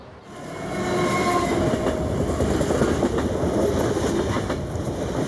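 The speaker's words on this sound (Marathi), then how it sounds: "गाड़ी क्रमांक 128008 सुपरफास्ट समता एक्सप्रेस थोड़ी ही देर में प्लेटफॉर्म क्रमांक 1 पर आ रही है" The Samta Express superfast train pulls into platform 1 at an Indian railway station, its loud, continuous rumble and rail clatter building quickly and then holding close and steady.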